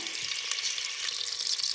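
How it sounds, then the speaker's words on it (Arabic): Chicken pieces sizzle steadily in hot margarine in a pan, a close, continuous crackling fry with no talk. "درت هنايا خلط نتاع الدجاج، راح نخليه يتقلى"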